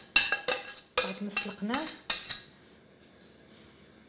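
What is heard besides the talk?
stirring the boureka filling mixture in a bowl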